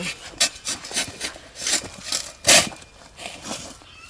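A branch being cut on a landscaping tree such as pine, crape myrtle or juniper, heard as close rasping, scraping strokes in uneven bursts with a few louder pulls, no talking.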